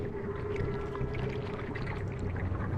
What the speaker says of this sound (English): We can even add the whale song